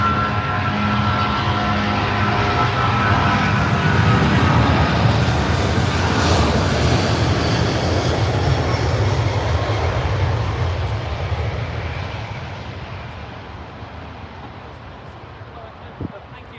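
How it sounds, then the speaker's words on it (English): An airliner powered by Rolls-Royce Trent 800 engines roars loudly at Heathrow, a broad sustained engine rumble that peaks near mid-clip and then slowly fades into the distance. "Some lovely Rolls-Royce Trent 800s."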